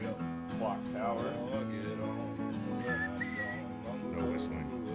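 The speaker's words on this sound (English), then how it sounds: "No whistling." Someone whistles short, wavering melodic phrases against a backdrop of tonal music, with the whistled notes rising and gliding at moderate loudness.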